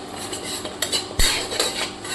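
A spoon scrapes and clinks against a pan as dried red chillies, bay leaves, whole cumin, cardamom and cinnamon are stirred in a little hot oil, close-up metallic taps over a faint sizzle.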